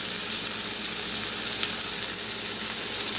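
A hamburger patty frying in a pan gives a steady, dense, close sizzling hiss that holds evenly throughout without pause.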